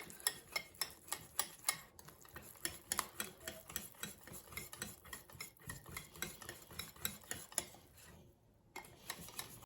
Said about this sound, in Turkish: Ve güzelce çırpıyoruz.